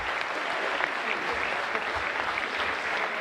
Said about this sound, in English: Let's give a huge round of applause to our underclassmen.